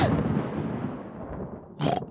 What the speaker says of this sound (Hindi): तूफान दूर जा रहा है।